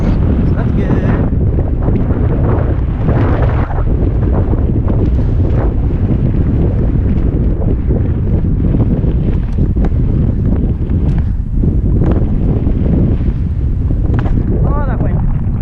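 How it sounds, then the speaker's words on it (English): Heavy, continuous microphone wind buffeting and roar during a bike ride, loud and close throughout with a rider speaking under the gusts. "Oh, that wind."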